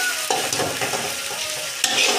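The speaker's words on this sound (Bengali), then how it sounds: "এটা ভালো করে কষিয়ে নেব" Ginger, cumin paste and chopped tomato being sautéed in a pan for mung dal; a steady close sizzle with occasional scraping stir strokes and a sharper clink near the end.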